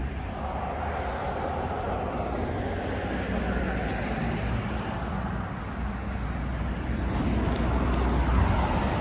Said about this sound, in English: More cars coming.